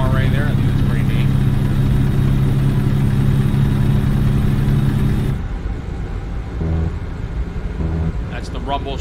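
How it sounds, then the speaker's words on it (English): In American Truck Simulator, a heavy truck engine drones loudly and steadily, then drops off abruptly; afterward a few short rhythmic rumbling bursts sound as the tires cross a rumble strip. "That's the rumble strip that you guys just heard."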